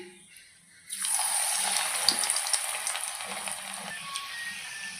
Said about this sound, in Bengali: এখন আমি পকোড়া ভেজে নেব। পকোড়া ভেজে নিচ্ছি।